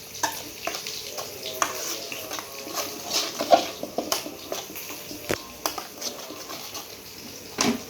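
Fish being mixed with spices by hand in a bowl for a vegetable fish curry, a soft, steady squelching and stirring with scattered small clicks and taps throughout.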